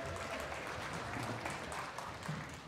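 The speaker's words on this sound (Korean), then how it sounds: "다시 한번 큰 박수 부탁드립니다" A church congregation at a Christmas service applauds for a performance by middle-school students, a soft, distant, even patter of many hands clapping with no speech on top.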